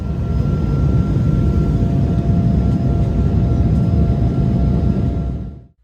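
Steady, loud broadband roar inside the economy cabin of an Austrian Airlines Embraer E195LR on a short flight from Venice to Vienna, with a faint whine above it. It is continuous and unbroken until it cuts off abruptly at the end.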